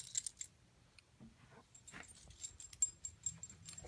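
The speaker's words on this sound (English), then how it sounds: "My dog says hi." A dog indoors makes quiet, scattered sounds, with soft whimpers and light jingling like collar tags in short bursts over a near-silent background.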